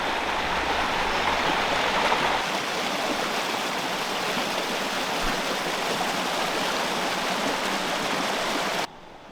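A brook running beside a bridleway in the Wye Valley near Whitebrook, a continuous rushing babble of water heard up close that holds steady for several seconds and then cuts off abruptly at the end.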